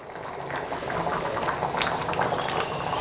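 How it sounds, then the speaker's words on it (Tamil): Tiffin sambar bubbles in a pot at a steady, close rolling boil with continuous burbling and popping. "ஸோ இப்போது சாம்பார் வந்து நல்லா கொதிச்சுட்ருக்கு"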